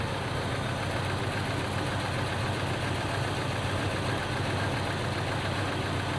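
A 1986 Mercedes-Benz 420 SEL W126 V8 runs at a steady idle, a loud, continuous low rumble with a constant hum, up close and without talk.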